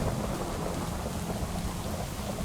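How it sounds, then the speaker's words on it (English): Steady rain and rolling thunder in the Minecraft modpack RLCraft, a dense continuous downpour with deep low rumbling underneath, loud and unbroken with no voices. "the fact that it is raining is not good"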